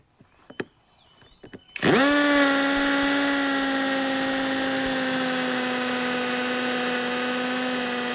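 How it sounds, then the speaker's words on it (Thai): After a few clicks and knocks, a cordless impact drill, a MASARU model, whirs up loudly and keeps a steady, high-pitched grinding drone as it bores continuously into brick. "เดี๋ยวเรามาลองเจาะกับ อิฐตัวนี้ดูนะครับ"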